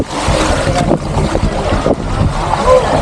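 Boat moving across open water off Mariveles, Bataan, heavy wind buffeting the microphone over a low engine rumble and splashing water, loud and close, with voices heard faintly underneath.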